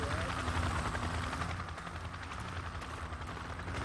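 A helicopter in the video game Project Reality drones steadily and loudly throughout, a constant rotor and engine roar with faint game noise layered underneath.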